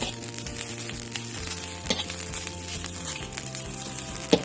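Winged termites roasting in a pan, a steady close sizzle and crackle with occasional scraping stirs and small pops, no voices over it.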